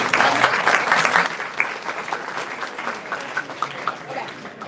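An audience claps together at the WAAMU 50th anniversary celebration, a full burst of applause that gradually thins out into scattered individual claps.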